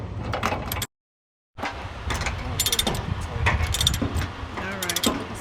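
A ratchet load binder cranked on a chain securing cargo on a truck, with close metallic clicks, clanks and chain rattles in irregular bursts, broken by a short silent gap.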